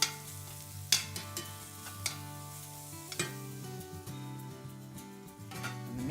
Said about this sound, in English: We're just going to quickly saute up our onions